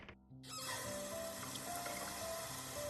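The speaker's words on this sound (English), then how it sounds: "As the cold water splashes my face" Cold water splashing onto a face in a romance visual novel game, a short quiet gap giving way to a continuous, even wash of splashing liquid that fills the rest of the moment.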